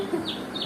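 Chicks or chickens making a couple of short, thin cheeps and clucks, close by and fairly quiet, with no talk over them.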